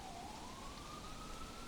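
Faint ambulance siren heard at a distance, one slowly rising electronic wail that rides above a steady wash of background noise.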